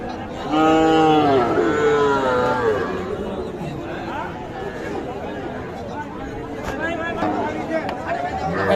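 Cattle at a cattle market low loudly with a long, deep moo up close, while people chatter in the background of a busy, crowded spot.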